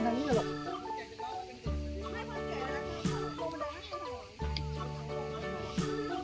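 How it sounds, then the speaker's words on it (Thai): Silkie chickens clucking at a café amid a busy mix of other sounds, with steady tonal background noise and children's voices nearby. "บ้านไก่ซิลกี้นะคะ"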